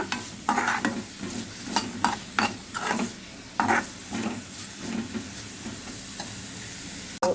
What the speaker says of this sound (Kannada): ಸ್ವಲ್ಪ ಆಯಿಲಲ್ಲೇ ಇದನ್ನು ಚೆನ್ನಾಗಿ ಫ್ರೈ ಮಾಡ್ಕೊಳ್ಳೋಣ